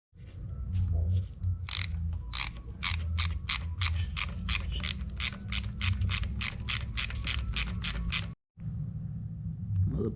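A ratchet clicks in a fast, regular series of sharp strokes while removing spark plugs from an old engine that has sat unused for over 40 years. The clicking is close and is heard over a low background rumble.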